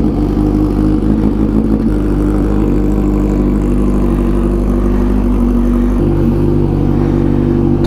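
A Kawasaki Ninja H2 motorcycle engine starting up and running, a loud, close, steady mechanical drone with a brief shift in tone partway through and a change in pitch near the end.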